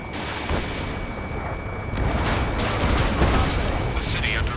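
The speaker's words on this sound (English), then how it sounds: "Gunfire and the roar of jets echoing through the streets." Gunfire rattles through a city under martial law in Ace Combat 7 video game, continuous dense bursts and rumbling booms with jet roar in the background.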